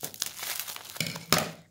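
Plastic wrap crinkles close up in a few quick crackly bursts as it is wound around cotton to make a squishy, ending in a brief rustle.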